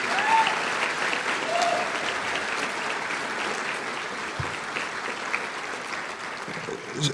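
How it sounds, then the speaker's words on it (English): Audience at a university commencement ceremony breaks into sustained applause for an alumnus speaker, a dense steady wash of clapping from a large crowd that holds evenly throughout, with a few scattered cheers. "Can we give him another round of applause,"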